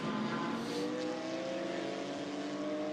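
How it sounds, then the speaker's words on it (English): GT4 race cars at Hockenheim rushing out of a turn, a loud continuous engine roar with shifting pitch as several cars pass close by. "the cars now come out of turn 3"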